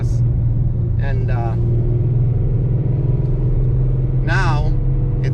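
A modified Ford Mustang Boss 302 rolls along at idle without throttle, its low, steady engine rumble continuous throughout while someone talks over it.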